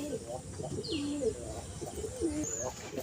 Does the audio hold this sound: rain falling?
no